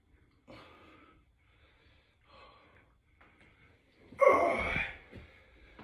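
Several short breaths during a home training exercise, soft inhales and exhales spaced apart and then one stronger, louder forceful breath out near the end, close and quiet.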